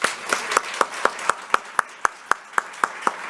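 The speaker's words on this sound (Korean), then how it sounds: "큰 박수로 맞이하겠습니다" Applause at a Sunday church service, a congregation clapping together in a slow, steady, evenly spaced rhythm, loud and close.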